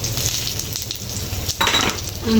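Dried red chillies, whole cumin seeds and bay leaves sizzling in hot oil, a loud, close, continuous frying hiss with a brief scrape of stirring near the end, no voices.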